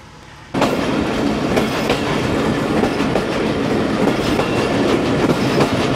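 A passenger train runs on rails toward a series of tunnels, starting abruptly loud and close with a steady rumble and rhythmic clickety-clack of wheels throughout, no voices.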